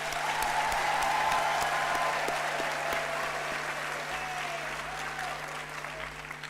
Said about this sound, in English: let's give them a warm round of an applause